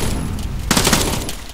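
Airsoft gunfire during an outdoor skirmish game: steady background noise, then a rapid cluster of sharp pops breaks out about halfway through and continues as a close, dense burst.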